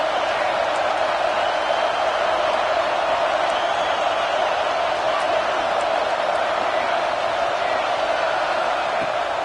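A packed football stadium crowd roars steadily during an opening drive, a dense, loud wall of noise that holds without a break and carries no clear voices.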